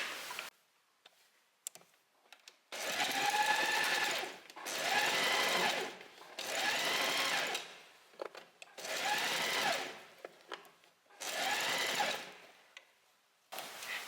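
A sewing machine stitches a blouse in five steady bursts of a few seconds each, a rapid close mechanical whir and ticking, separated by short pauses with faint handling noises.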